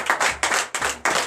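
Congregation at a Sunday church service in Benin clapping in unison, four loud rhythmic bursts of many hands close by, each swelling and dying away in a steady pulse.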